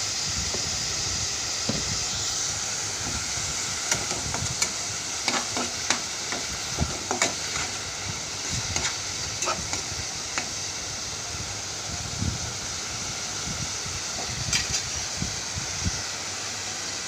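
Food frying in a pan after turmeric goes in, stirred with repeated scraping and clinking strokes over a constant hissing sizzle, close and fairly loud, with no talking.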